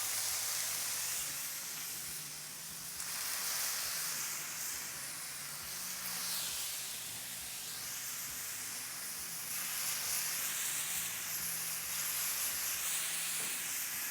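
Picanha steaks sizzle on a Grilla Grills Primate griddle, a steady hissing sear that swells and eases in waves over several seconds, with no voices.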